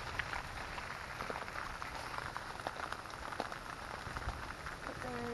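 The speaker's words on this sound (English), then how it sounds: "It was raining, and now the rain has turned to hail." Rain turning to hail at a campsite in Kolob, a steady dense hiss and patter of drops and small ice pieces on surfaces, continuous and fairly loud with scattered sharper ticks.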